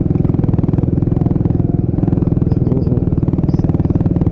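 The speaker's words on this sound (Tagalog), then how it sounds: "Kahit namamatay sa minor yung motor ko" A motorcycle engine runs steadily at close range on a dark night road in Cavite, making a continuous, even drone that holds for the whole stretch with no voices over it.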